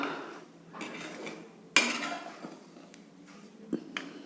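Flour being stirred and roasted over a low flame in a pan for laddus: soft, intermittent scraping and brushing strokes, with one sharp metallic clank and a few lighter clinks from the utensil against the pan.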